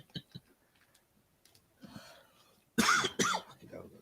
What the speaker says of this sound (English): I got a cough all of a sudden.